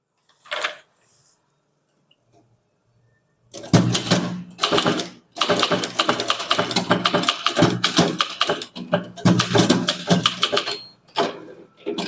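Keys strike on a Tamil typewriter during a senior-level typing exercise: after a lone early tap and a pause, dense, rapid, loud mechanical clacking runs in bursts with brief breaks.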